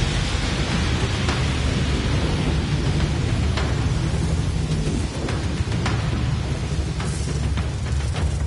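Void storm thunder rolls through the Warframe game world, a dense, loud, continuous rumble with rain-like hiss and scattered sharp crackles, steady throughout with no voices.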